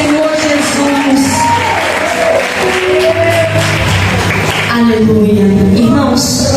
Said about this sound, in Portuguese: Quem pode sentar aplaudindo bem forte ao Senhor Jesus.